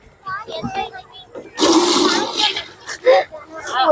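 A tap gushes forcefully in a short roaring burst of splashing water, while excited voices talk over it before and after.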